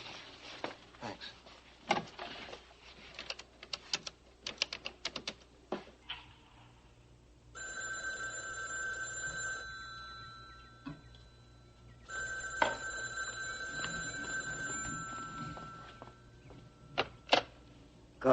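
An old telephone bell rings in two long bursts with a gap between them, set among scattered knocks and handling clicks in a quiet 1981 soap-opera interior.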